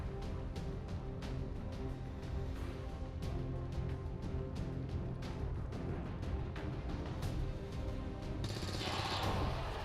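Rapid bursts of gunfire in XCOM 2: War of the Chosen crackle continuously over a dense, steady background of game noise, with sharp shots repeating throughout.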